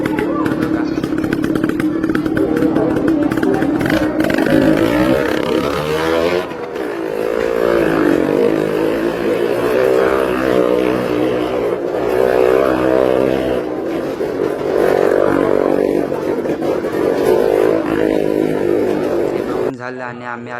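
Motorcycles at a bike race at the Lanja Akanksha festival in Konkan, a loud sustained engine drone with revving swells close by, while people talk throughout.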